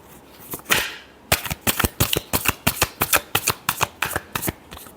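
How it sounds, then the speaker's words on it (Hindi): A deck of tarot cards shuffled by hand: a brief riffle, then a rapid run of crisp snapping card flicks, close and loud, with no voice. "Last shuffle."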